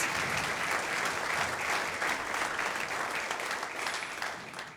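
Steady, dense applause from a crowd at a folklore group's 30th anniversary celebration, greeting a wine queen, with no talk over it.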